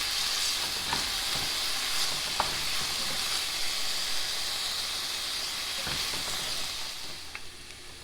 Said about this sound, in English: I'm going to constantly stir these while I'm sauteing them for about 2 to 3 minutes